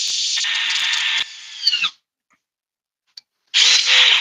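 A DeWalt cordless drill in drill mode, set to 2, whirs loudly for about two seconds, winds down and stops, then after a short pause revs up again sharply.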